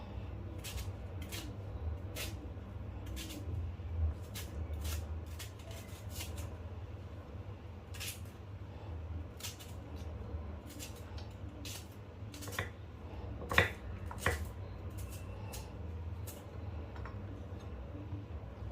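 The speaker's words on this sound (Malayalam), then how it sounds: "ഒരു സവാളയാണ് ഞാൻ ഇതിന് ഇട്ട് കൊടുക്കുന്നത്. ചെറുതായിട്ട് എല്ലാം കൂടി ഒന്ന് അരിഞ്ഞു കൊടുക്കുകയാണ്." An onion being finely chopped with a knife for a sweet and spicy mango salad, a steady run of quick, faint, sharp taps on a cutting board with a low hum beneath.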